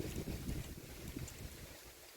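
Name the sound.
strong wind blowing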